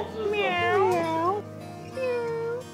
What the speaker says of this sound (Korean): 고양이네 미야오 거릴까?